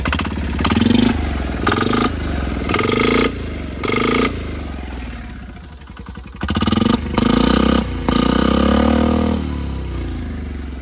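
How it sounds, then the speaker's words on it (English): A loud diesel engine revs in repeated bursts with a rough, clattering idle between them, a faint whistling turbo spool rising under the throttle blips. "I turned the fuel up quite a bit, so you can hear the turbo spool a little."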